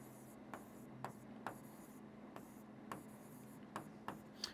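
Chalk tapping and scratching on a board during a Hindi statistics lesson, a steady series of short sharp ticks and strokes spaced about half a second apart over a low constant hum, with no talk.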